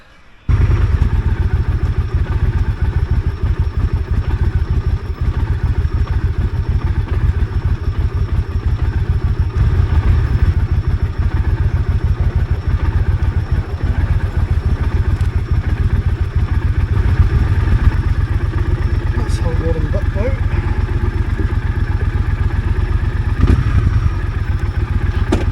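An old Triumph Thunderbird motorcycle engine runs steadily at a loud, close idle with a rapid even thumping pulse and faint mechanical clatter, lasting throughout with no voices.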